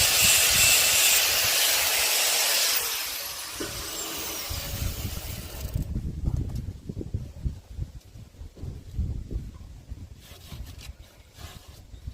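An angle grinder sharpens a semi-chisel chainsaw chain, giving a loud, steady, high grinding whine that cuts off about halfway, followed by quieter rough scraping and rubbing bursts.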